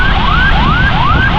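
Ambulance siren wailing through heavy-rain traffic in Karachi, a loud, near, repeating rising sweep about every 0.4 seconds over a dense background roar of rain and road noise.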